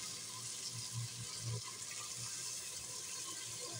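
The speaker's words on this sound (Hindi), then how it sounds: "1 गिलास हम पानी डाल लेंगे।" A glass of water is poured into a pot of aloo matar chicken curry, a steady soft splashing and running of liquid heard alone for a few seconds.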